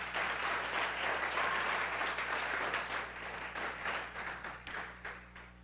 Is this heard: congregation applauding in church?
yes